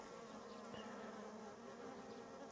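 Bees swarm around a blossoming pear tree in a garden, a soft continuous buzz of many insects heard from a little distance, faint and steady with no voices.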